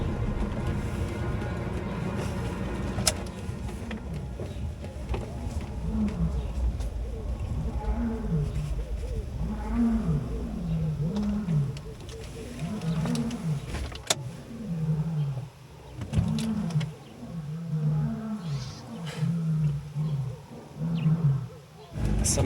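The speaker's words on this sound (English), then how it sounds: "I think there's been a bit of a tussle before those roars you heard now." Lions in Mapungubwe National Park roar in a series of deep, rhythmic grunting calls, fairly close and building then fading, with a person speaking quietly between them.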